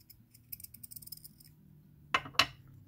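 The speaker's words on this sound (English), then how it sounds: "So you can just kind of trim off that flashing." Craft knife trimming resin flashing off a cast moon, a quiet, close sequence of small scraping ticks followed by two sharper snipping cuts.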